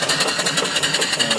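A small live steam mill engine with enlarged valve ports runs smoothly, giving a fast, even, rhythmic beat that is close and steady.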